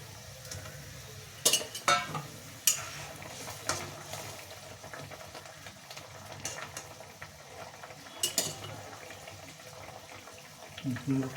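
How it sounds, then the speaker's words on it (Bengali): Water bubbling in a covered pot for a Bengali pabda fish curry, with fish dropped in, a soft simmering bed broken by a few sharp clatters and splashes, faint and close. "জলটা ফুটে উঠেছে এবার মাছগুলো ছেড়ে দেবো"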